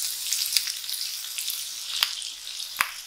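Sliced ginger sizzles in a hot pan for a Chinese pork stir fry, a steady bright hiss with a few sharper crackles and pops standing out.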